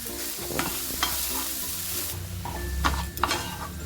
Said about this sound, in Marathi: बघा आता अशी परतवून घ्यायची आहेत मटकी